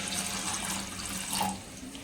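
Water runs steadily from a tap into a cooking vessel, a close, continuous splashing rush that eases slightly toward the end, with no voices.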